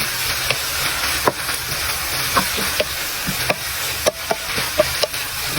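Sautéed pechay is stirred in a hot pan, a steady hiss and sizzle punctuated by repeated sharp spatula clicks and taps against the metal, close and without talk.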